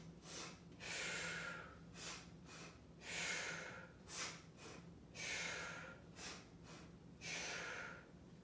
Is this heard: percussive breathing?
yes